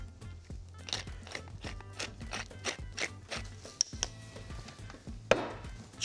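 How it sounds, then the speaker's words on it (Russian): Minced chicken meat being mixed thoroughly by hand, giving repeated squelching, slapping and scraping strokes in a steady rhythm, close and fairly loud with no talk. "Тщательно вымешиваем фарш."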